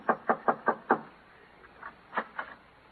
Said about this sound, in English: Yeah, knock on the door.